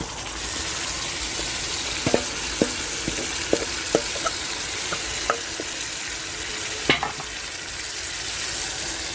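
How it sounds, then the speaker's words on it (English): Marinated chicken dropped into melted ghee with browning onion for a Goan vindaloo, giving a steady close sizzle of frying with a few sharp scrapes and clicks of stirring scattered through, no voices. "Next, add the marinated chicken."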